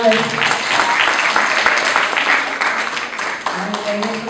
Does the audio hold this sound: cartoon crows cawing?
no